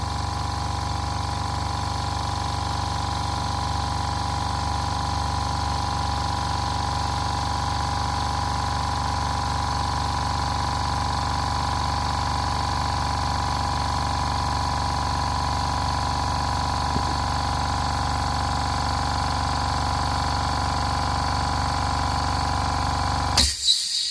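A small air compressor with a 1/4 BSP fitting, used for airbrushing, hums steadily and loudly as it fills its tank, then cuts out abruptly near the end with a brief clatter.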